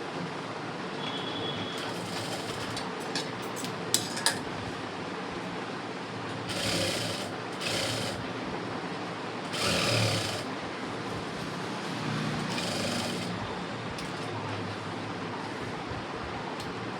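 A sewing machine stitches an embroidered blouse in a steady, close mechanical whir, with short louder bursts of faster stitching and a couple of sharp clicks along the way.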